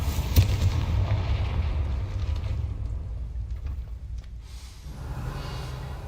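A Confringo blasting spell goes off in the Hogwarts Legacy video game, with a sharp crack followed by a heavy, rolling boom that rumbles on and slowly fades, no voices present.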